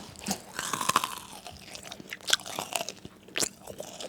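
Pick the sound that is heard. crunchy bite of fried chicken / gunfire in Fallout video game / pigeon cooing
crunchy bite of fried chicken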